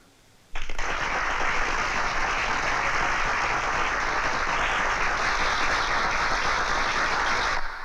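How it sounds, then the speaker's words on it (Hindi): A crowd in a 1999 Hindi action film scene breaks into sudden loud applause that holds steady and dense for about seven seconds after a brief quiet start. "अब मैं ये हार पहनाऊंगा ना तुम्हें, तो ये सब तालियां बजाएंगे।"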